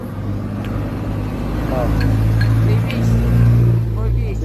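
Honda Wave 125 motorcycle fitted with a lighten tube exhaust, revving with a loud, rising and falling low engine roar up close, while someone talks briefly over it.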